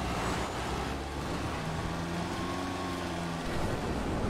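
Steady engine drone of a car driving in Evil Dead The Game, a continuous mid-loud rumble with shifting pitch and no talk over it.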